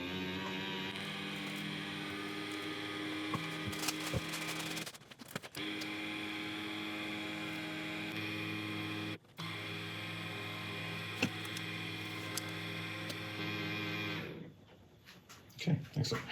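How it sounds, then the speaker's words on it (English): A small battery-powered resin stirrer from Let's Resin runs in a pot of resin with a steady electric whir and hum, stopping and restarting briefly twice before cutting off near the end. "I've got one of these little stirring devices from Let's Resin."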